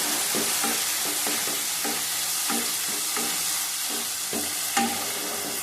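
Spiced potatoes for shahi aloo dum, with cashew and raisin paste, stir-fried in a pan: a loud, steady sizzle under rhythmic scraping strokes of a spatula, close up and continuous.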